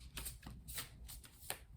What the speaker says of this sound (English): Let's continue and do some shuffling and pull 6 tarot cards.